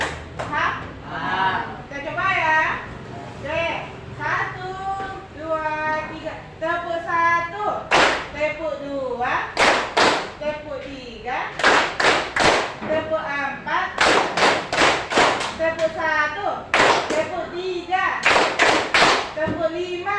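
A group of teachers in a coaching session playing a counted clapping game, sharp unison claps in bursts of one, two and three, alternating with a woman's spoken instructions and the group's replies.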